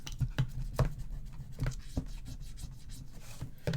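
Bone folder rubbing and pressing paper into the corner of a handmade gift box, a series of close, soft scraping strokes with a few sharper taps, fairly quiet and steady.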